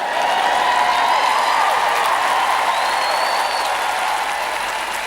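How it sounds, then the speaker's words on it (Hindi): Audience at a church sermon breaks into steady, dense applause, loud and close, sustained evenly throughout with no talking over it. "तालियां बजाकर खुश होइए"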